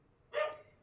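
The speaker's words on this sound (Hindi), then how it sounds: "क्योंकि बैकग्राउंड में इतने कुत्ते भौंक रहे हैं ना," A single faint bark from a dog somewhere in the background, one short burst standing alone in a quiet room.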